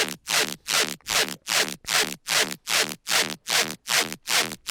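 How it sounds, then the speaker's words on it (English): A synth bass patch in an Ableton Live build-up pulses in a steady rhythm of about eleven even, gritty, rasping bursts, each fading in and out, loud and alone. "the one that's actually building up with other elements is this like super nice bass patch that I got from the drop"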